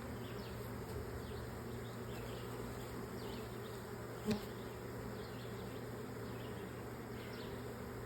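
A swarm of bees buzzes near a hive in a dense, steady hum that carries on evenly throughout, with a single faint tap partway through.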